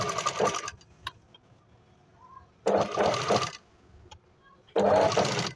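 A sewing machine stitches pieces of a two-piece katori blouse, running in three short bursts of steady rapid whirring with quiet pauses between them, close and clear.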